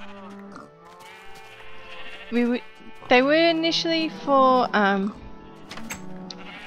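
Several sheep bleat in Minecraft on Xbox, their wavering cries overlapping in loud bursts, with a person talking briefly between them.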